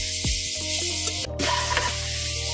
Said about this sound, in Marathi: अशा प्रकारे छान अगदी हा गाजराचा किस तुपामध्ये परतून घ्यायचा आहे